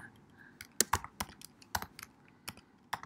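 Typing on a computer keyboard, close and fairly quiet, with a dozen or so sharp key clicks in irregular clusters and short pauses between them.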